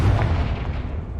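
A Confringo blasting spell is cast in Hogwarts Legacy, making a single short, heavy boom with a deep rumbling burst that fades quickly.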